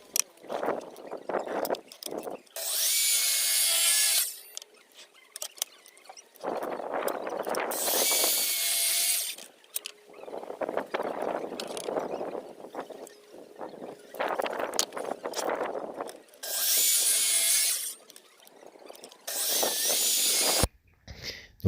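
Power saw cutting wooden decking boards at 45-degree angles for a garden planter, with five loud, sustained bursts of harsh whining cut, each lasting one to two seconds, separated by quieter handling noise.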